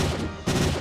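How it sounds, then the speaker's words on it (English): A grenade explodes in the video game Detroit Simulator: one sudden, full-bodied burst breaks in after a brief lull, set against a continuous wash of game battle noise. "Oh, that's a grenade."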